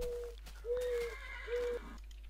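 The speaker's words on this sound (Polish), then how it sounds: "Koń, koń, koń. Trzy konie." A horse in Minecraft neighs three times in quick succession, short whinnying calls spaced about evenly, fairly faint against a quiet background.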